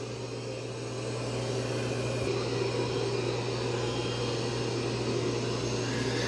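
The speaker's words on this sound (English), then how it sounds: "it is going to vacuum in nice straight lines" A Roborock Saros Z70 robot vacuum cleaner runs with a steady, even whirring hum and hiss, close by and unbroken, with no voices.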